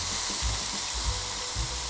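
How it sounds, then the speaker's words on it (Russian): Lingonberry topping sizzles in a pan as suluguni cheese fries, a loud, steady close-up hiss with soft bubbling pops underneath, no voices. "Шипит брусника, жарится сыр."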